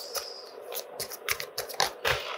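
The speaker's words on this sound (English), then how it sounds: "one last shuffle" Tarot cards being shuffled by hand, a series of soft, crisp riffling and slapping bursts in an irregular rhythm, close and fairly quiet with no talking.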